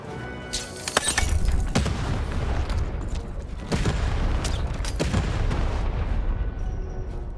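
Heavy cannon blasts in the video game Lost in Random: several loud booming shots with sharp attacks that ring out over a dense, rumbling ambient background.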